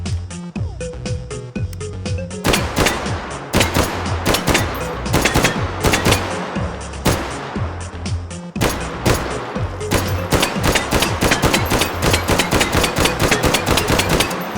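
Rapid bursts of M2 carbine automatic fire in the H3VR World War II virtual-reality shooter, loud and close, with dense repeated shots in long volleys and brief pauses between them, and no talking.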